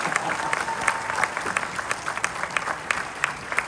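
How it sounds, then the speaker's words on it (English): An audience at an anime convention panel claps steadily in a hall, a dense round of applause that holds moderately loud for several seconds. "Give them a round of applause for everyone."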